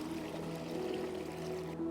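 Floodwater running high beneath a low bridge with no clearance on a flooded countryside estate, a steady continuous rushing and pouring flow, close and fairly loud throughout with no talking.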